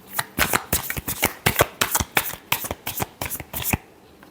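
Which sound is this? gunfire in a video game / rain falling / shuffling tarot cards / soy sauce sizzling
shuffling tarot cards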